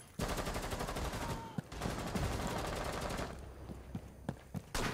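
Heavy sustained gunfire in a Rainbow Six Siege match, dense rapid bursts filling the first few seconds, then a pause and a renewed barrage, with isolated sharp shots near the end.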